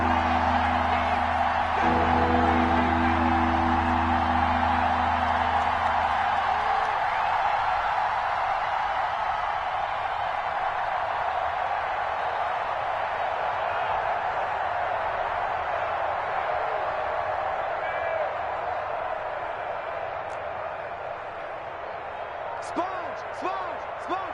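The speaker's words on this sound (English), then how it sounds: "The crowd getting into it as we come up on a big 3rd down." Crowd noise in a PS4 American football video game builds as a broad continuous roar ahead of a big third down, fading slightly toward the end, with a commentator talking throughout.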